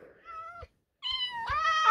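Cats meowing in a video game, two or three clear, drawn-out meows with a short silent gap between them, loud and close with no talk over them.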